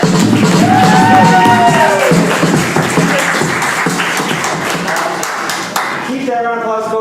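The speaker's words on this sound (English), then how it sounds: "Give yourself a round of applause." An audience at a live comedy improv show claps and cheers in a broad wash of applause, with a host's voice calling out over it and whoops rising near the end.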